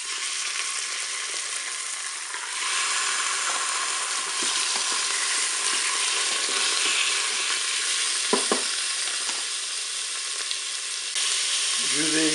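Salmon fillets frying in a hot Cookeo multicooker pot, a loud continuous sizzle and crackle that swells after the fish goes in, with brief stirring knocks midway.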